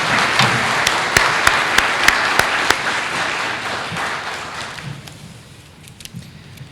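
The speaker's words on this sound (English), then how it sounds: "let's give everybody a round of applause" A community recognition event audience breaks into applause, with a few sharp individual claps standing out before the clapping thins and fades near the end.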